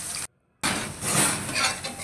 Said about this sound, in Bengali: আমি মিডিয়াম আঁচ রেখে হালকা বাদামি কালার করে পেঁয়াজটা ভেজে নিব।